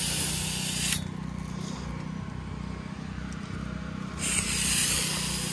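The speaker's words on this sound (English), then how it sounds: "I'm using a 1 horsepower booster pump." A 1 horsepower booster pump sprays chemical across a house roof, a steady broad hiss with a low pump hum running underneath, louder at the start and end and slightly muffled in the middle.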